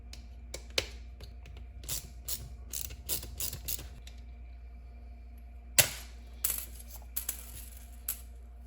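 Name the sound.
removing Ford Ranger headlight screws with T10 Torx bit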